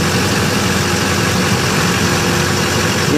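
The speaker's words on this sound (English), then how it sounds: "I'm showing the engine, it idles smoothly." Steady, loud diesel rumble of a GMC Sierra 2500HD with a 6.6L turbo diesel idling smoothly, heard up close with an even, unbroken drone and no talk.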